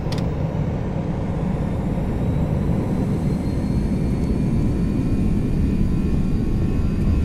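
Airbus A320 jet engines spooled to about 40% throttle on a runway in the X-Plane 11 flight simulator, a loud, steady, continuous roar with a broad low rumble and faint high whine, holding constant throughout with no talk.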